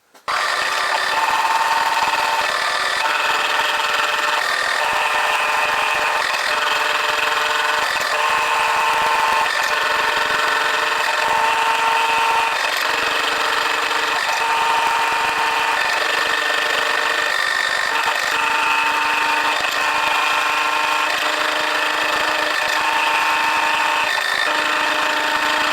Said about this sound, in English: just hog a little bit of that material out there with this slot cutter, just so there's less to clear out with the dovetail cutter